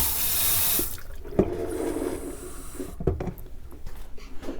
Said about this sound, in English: I'll put in a little bit of warm water.